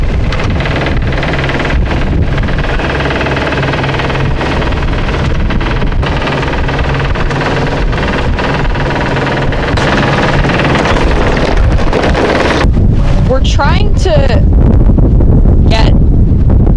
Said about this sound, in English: we have this wind on the nose coming in that direction, so it's creating a little chop.